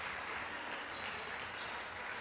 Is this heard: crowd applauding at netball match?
yes